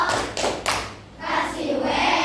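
Children clapping out the 'tepuk wow' routine in a classroom, a few sharp hand claps in quick succession followed by a longer burst of group clapping.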